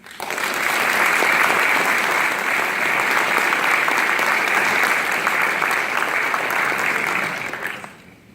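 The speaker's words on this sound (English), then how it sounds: "Please take a moment to give these soldiers a round of applause." Audience applause for soldiers at a non-commissioned officer induction ceremony: loud, dense clapping from a large crowd that swells quickly, holds steady for about seven seconds, then tapers off.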